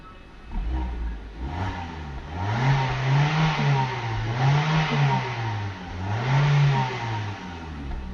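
A Vauxhall Agila with its standard exhaust backbox fitted revs repeatedly, the engine note rising and falling in several smooth swells over a steady idle, close and fairly loud with no talking.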